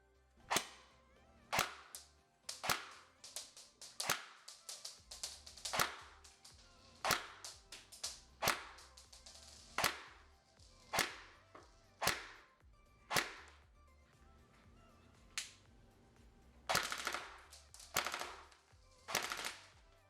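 A Daniel Defense DDM4 airsoft electric rifle fires 0.25 gram BBs across a chronograph in single sharp shots, about twenty spaced cracks over the stretch, loud and crisp with no talking.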